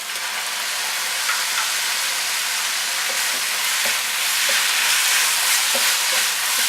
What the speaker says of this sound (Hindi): इसको 1 मिनट के लिए फ्राई करेंगे।